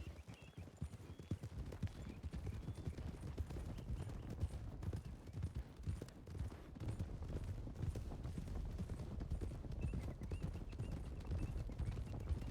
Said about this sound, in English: Alright. Let's get to a canter.